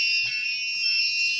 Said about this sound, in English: You want to change the volume of a buzzer.